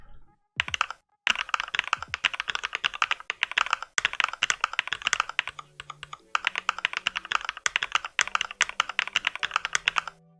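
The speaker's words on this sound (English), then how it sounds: "and then the novelty creams" Mechanical keyboard fitted with novelty cream switches, typed on in rapid, dense bursts of clacky keystrokes that continue with short pauses, close and clear with no talking.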